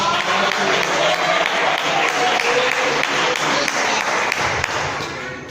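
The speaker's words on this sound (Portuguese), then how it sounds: "Levante palmas." A church congregation applauds during a service, a dense, loud wash of clapping that fills the whole stretch with no break.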